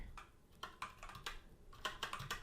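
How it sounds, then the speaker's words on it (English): Keystrokes on a computer keyboard while writing script code, an irregular run of close, fairly soft clicks in uneven bursts with no voice over them. "I'm going to type a function here"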